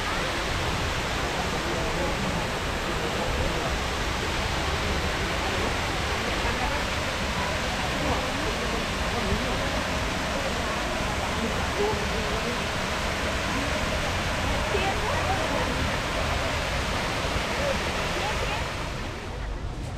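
A large waterfall at Yarina Park in Surin, Thailand, roars as a steady, dense rush of falling water, loud and close, unbroken for the whole stretch with no talk over it.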